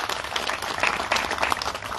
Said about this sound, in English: if you could give a round of applause to the people who actually make this happen